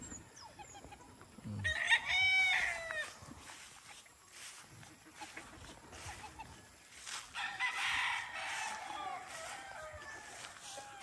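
A six-month-old white Kelso gamefowl rooster crows close by. Its loud, ragged call rises and falls over a few seconds, and clucks and other barnyard sounds carry on quietly around it.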